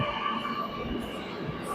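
A Kochi Metro train pulling into a station, heard as a steady, loud broadband rumble and rushing noise that holds evenly through the short moment.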